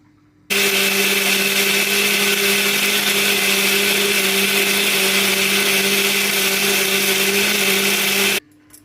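A mixer grinder grinding chutney with a little water starts abruptly, runs at a loud, steady whine for about eight seconds, then stops suddenly.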